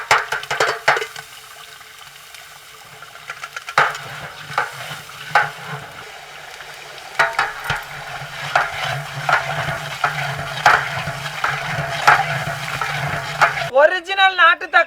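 Ginger garlic paste frying in hot oil for a mutton biryani, a busy sizzle with repeated clattering stirs against the pot, loud and close, with talking heard over part of it and a brief burst near the end.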